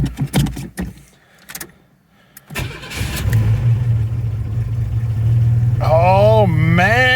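A carbureted engine in a 1985 S-10 Blazer Tahoe is cold started: a few loud cranking bursts, a short quiet gap, then the engine catches and settles into a steady, rough idle, with a wavering electronic tone rising over it near the end.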